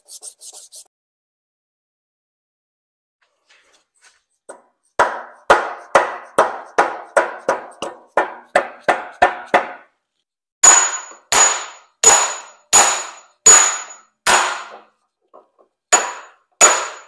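Pulley being hammered back onto a plate compactor, a series of sharp metallic blows in quick rhythmic bursts, loud and close, then a second run of heavier, ringing strikes with short pauses between.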